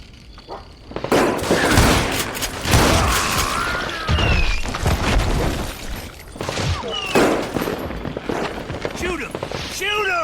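Rapid gunfire in the Western shooter Call of Juarez: Gunslinger on Nintendo Switch: dense, loud volleys of shots and booms that carry through almost the whole stretch, with raised voices shouting over the din.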